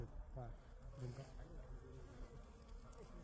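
Honeybees buzz in a steady, low droning hum around beehive boxes, fairly close, with faint voices in the background.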